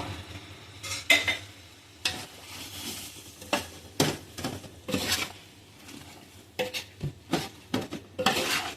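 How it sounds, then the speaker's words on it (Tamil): Mint, coriander leaves and green chillies sautéed in a pan for mixed biryani, with a spoon scraping and clanking against the metal in irregular bursts over a low sizzle, close and moderately loud, no talking. "இதோட புதினா, கொத்தமல்லி, 5 பச்சை மிளகா அதையும் சேர்த்து வதக்குங்க."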